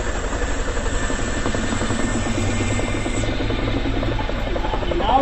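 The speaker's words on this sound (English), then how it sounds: "See the agility of the huge helicopter." A huge helicopter maneuvers and hovers close in front of an air show crowd, its rotor chop and turbine whine steady and loud throughout, with a brief high tone near the end.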